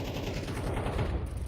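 Rapid, dense automatic gunfire sprays through a wall in a competitive shooter match, with a continuous loud burst throughout.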